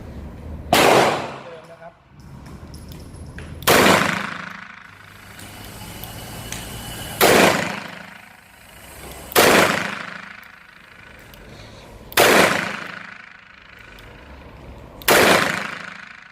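A Smith & Wesson M67-5 revolver fires .38 Special +P rounds at a range, six loud, sharp shots spaced about two to three seconds apart, each followed by a booming decay.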